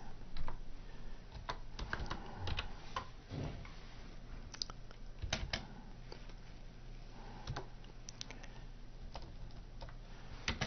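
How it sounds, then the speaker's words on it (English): Keys tap on a computer keyboard as a label size is entered, quiet irregular clicks in short bursts over a faint room background. "So I'll type in medium."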